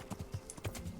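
Horse hooves clip-clopping in the medieval game Kingdom Come: Deliverance, a quick, even rhythm of soft thuds at a steady walk or trot, close and moderately quiet.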